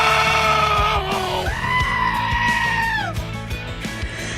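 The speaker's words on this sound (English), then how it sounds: "Oh, how the Screaming Goats love to welcome you back to joining us here on WDAY." Screaming goat sound effect aired on a radio station, a loud series of bleats and human-like goat screams with one long wavering cry held in the middle, played over a steady music bed.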